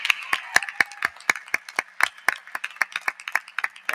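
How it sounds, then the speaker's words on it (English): Clapping for newly commissioned second lieutenants at a university fall commencement ceremony, a sparse set of sharp, distinct claps from a few nearby hands, uneven in rhythm and spaced apart. "Let's give them a round of applause, please"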